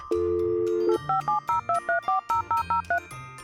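A steady electronic tone followed by a quick series of short, evenly spaced beeps, like keypad tones, clear and close.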